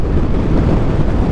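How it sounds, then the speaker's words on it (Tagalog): Strong wind roars steadily across the microphone on the La Union coast during a typhoon, loud and close and with no break, covering any other sound. "lakas ng hangin, no?"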